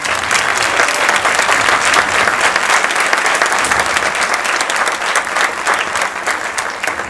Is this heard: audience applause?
yes